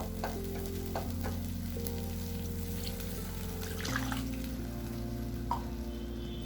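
Gongura prawn curry base stirred in a pan after a glass of water is added, a continuous close sizzle and bubbling with soft scraping of the spoon, steady throughout without voices.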